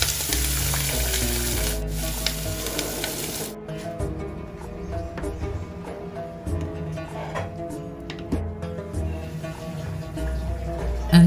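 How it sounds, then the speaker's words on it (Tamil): Blended paste hits hot tempering oil in a pan and sets off a loud, steady sizzle and crackle that lasts throughout, with a soft background tone running under it. "இப்போ தாளிச்சுட்டு பிளெண்ட் பண்ணதை போட்டுடலாம்"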